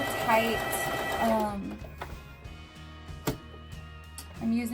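A sewing machine back stitches fabric for reusable produce bags, its low steady mechanical whir running quietly beneath a person talking throughout.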